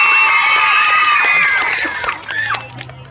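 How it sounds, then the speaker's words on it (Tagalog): A crowd at a Miss Gay Pinagbayanan 2023 pageant cheers and applauds loudly, with high shrieks and whoops over clapping that fades toward the end, followed by a brief voice. "wala ho bang malakas na hiyawan at palakpakan dyan?"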